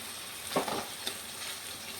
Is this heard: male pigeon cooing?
no